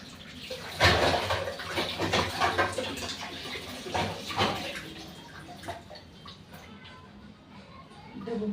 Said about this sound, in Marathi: ढबू मिरची धुवून घेते मी